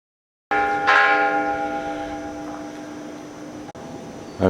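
A church bell near the Pumamarca ruins in Peru rings out with a strong struck tone at the start, then a long sustained ringing hum slowly fading, heard alone outdoors.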